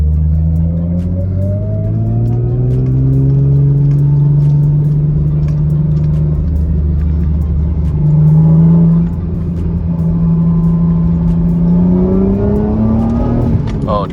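A Lexus IS300 fitted with an HPS intake hose pulls hard in second gear from inside the cabin, engine note rising steadily, briefly dipping at a shift, then climbing again, loud and close.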